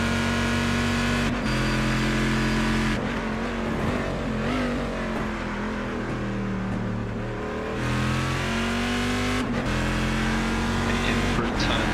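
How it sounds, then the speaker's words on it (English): Corvette GT1 race car engine in a racing video game at Interlagos, loud and close, revving up and down through gear changes with sustained tonal engine notes and brief shift dips. "Love the sound of the Corvette, one of the best sounding GT1 cars,"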